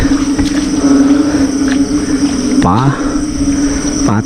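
Steady high insect chirring hums through the whole clip, with a voice speaking in short bursts over it near the middle and end.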